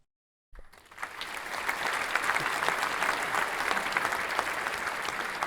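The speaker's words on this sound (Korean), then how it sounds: "그리고 박수가 터졌습니다." After a brief silence at the end of a piano performance in an auditorium, applause breaks out and builds into steady, sustained clapping from a sizeable audience.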